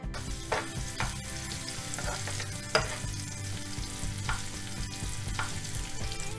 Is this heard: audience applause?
no